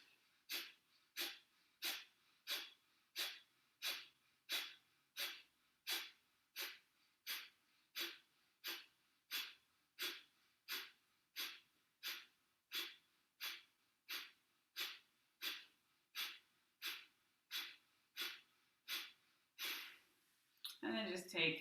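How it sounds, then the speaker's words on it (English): Yoga breathing through the nose: forceful, sharp exhales at a steady rhythm, about one per second for some twenty repetitions, each followed by a soft passive inhale, close and clear, with a longer breath at the end. "So nice active exhale and passive inhale."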